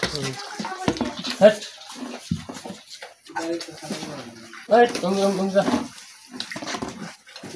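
Water splashes and trickles as a little is poured into cattle feed, with people talking over it and birds cooing nearby.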